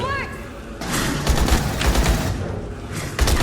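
Gunfire from weapons shooting at aliens in the Aliens: Colonial Marines video game, heard as a loud sustained volley of shots with a few heavier bursts, mixed with game sound and some talk.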